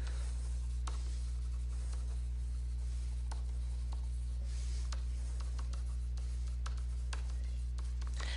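Soft, faint scratching of a pen writing a statement by hand on paper, with intermittent strokes and taps over a steady low electrical hum in a quiet room.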